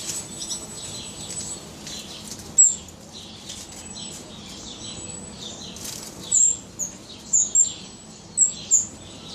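Newly introduced wild birds in an aviary in Sulaymaniyah give short, high chirps and tweets, some in quick clusters, over a low rustle of wings fluttering nearby.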